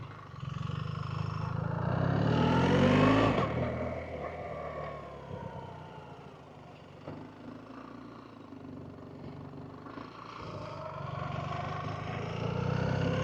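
A BMW R 1300 GS motorcycle rides slowly back and forth across a parking lot, its engine revving up and then easing into a lower idle-like rumble before swelling again, with someone speaking over it.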